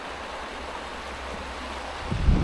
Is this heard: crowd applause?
no